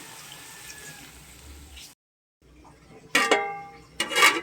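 Water from a thermos pours into a pot in two short splashy bursts after a brief quiet gap, close by.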